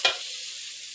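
Garlic fries in hot oil until golden and fragrant for a Pad Thai sauce, a brief stir followed by a steady, close hiss of sizzling.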